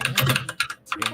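A loud computer keyboard clacks in quick, uneven bursts of keystrokes, close and sharp, with a brief pause before more typing resumes.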